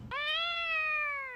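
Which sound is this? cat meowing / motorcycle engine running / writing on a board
cat meowing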